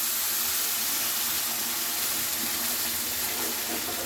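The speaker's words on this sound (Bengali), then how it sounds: "দেখো জল ঢেলে দিচ্ছি, প্রায় 1 লিটার জল ঢেলে দিতে হবে।" About a litre of water pours steadily into a pan of semolina halwa in a home kitchen, a continuous rushing, splashing stream held at an even, fairly loud level throughout with no talk.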